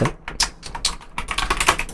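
Quick bursts of typing on a computer keyboard, a brisk run of close, sharp key clicks with brief pauses, heard alone.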